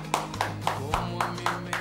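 A small group claps in a short, even rhythm of about seven distinct claps, fairly close and moderately loud, with a radio studio's background hum beneath.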